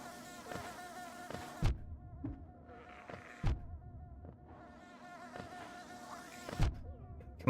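Droning insect buzz from bees in the video game Hollow Knight, a continuous whining hum that swells and cuts off repeatedly amid sharp game hits, with no talk.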